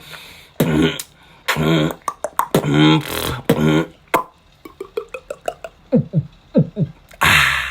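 A voice imitates sounds with the mouth: gurgling, bubbly water-like noises, then a series of rhythmic pops and plops like a bottle being opened.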